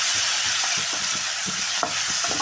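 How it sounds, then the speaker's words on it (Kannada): Tomatoes frying in a pan for masala rice, a steady bright sizzle with soft scraping stirs of a spoon at an irregular rhythm, close and continuous with no talking. "ಟೊಮೊಟೊ ಹಾಕಿಬಿಟ್ಟು ಈ ಥರ ಫ್ರೈ ಮಾಡ್ಕೋಬೇಕು"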